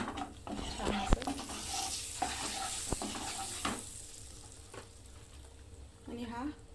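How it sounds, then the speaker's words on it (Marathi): Paneer bhaji cooking in a pan with turmeric stirred in. A close sizzle runs under a voice, broken by sharp clinks and scrapes of a spoon against the pan. "थोडीशी हळद टाकायची आहे। परतून घ्यायचं छान असं।"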